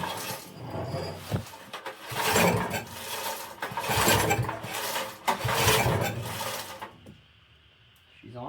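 Small engine on choke, checked for a leaking carburetor after a tank replacement, sputters and runs in loud, uneven surges with brief dips, then cuts out near the end leaving a faint hum.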